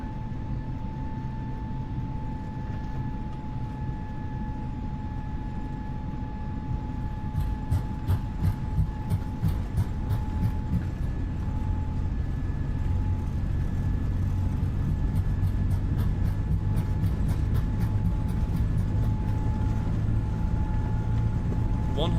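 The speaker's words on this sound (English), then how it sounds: "thrust are set, and we are departing" A320 jet engines spool up to takeoff thrust in a flight simulator, departing Quito: a steady, loud roar with a constant whine, turning into rapid rhythmic rumbling thumps as the roll begins and building through to the end.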